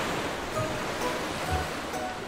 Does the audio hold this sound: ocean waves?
yes